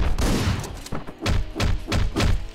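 A rapid burst of gunshots in Hotline Miami, about six punchy, muffled thuds in quick irregular succession, loud and close.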